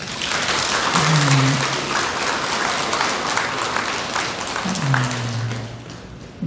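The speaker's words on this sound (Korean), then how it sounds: "네, 박수 한번 주시죠." Audience applause at a Buddhist temple Saturday dharma gathering after a documentary screening, a sustained wash of clapping in a large room with a low hum underneath, gradually easing toward the end.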